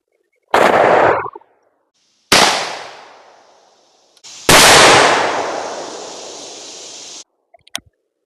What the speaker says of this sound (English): This was shot from the Stevens 512.